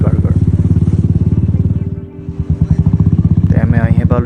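A motorcycle engine idles and revs up close, a rapid throbbing putter that dips briefly midway before picking back up.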